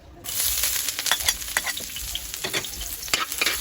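Garlic and onion sauté in oil for spaghetti, a bright crackling sizzle that starts abruptly and continues with uneven pops and stirring scrapes, close-up and unaccompanied by speech.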